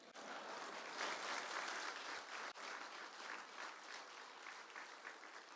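Audience applause at an honorary doctorate conferral ceremony at Jeonju University, a full, even wash of many hands clapping that runs the whole stretch, heard at a distance and fairly quiet, with no voices over it.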